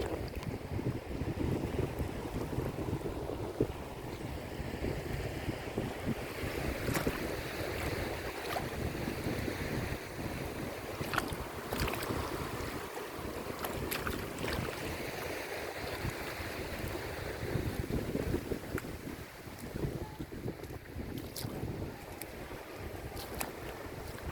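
Waves wash steadily onto the shore with a constant roar of surf, mixed with gusty wind buffeting the microphone.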